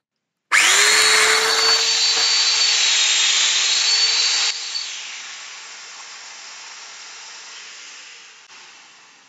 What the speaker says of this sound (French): pour réaliser mon premier trou, de repasser la machine en mode serrant.